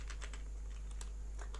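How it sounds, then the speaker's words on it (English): Quiet typing of a file path on a computer keyboard, a quick irregular run of soft key clicks over a steady low hum. "So we'll type that here now."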